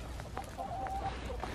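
Chickens scratch through a steaming compost pile outdoors and give soft, scattered clucks with light rustling, close and at moderate volume.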